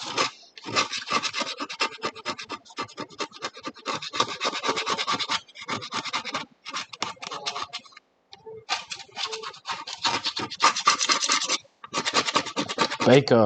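Hand scraping on samurai armour being lined in a workshop, rapid rasping strokes in bursts separated by short pauses, close and fairly loud, with no talk.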